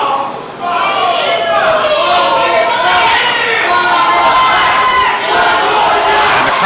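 A pro wrestling crowd at a live event roars and chants loudly and steadily throughout, a dense wall of cheering voices calling for another chop.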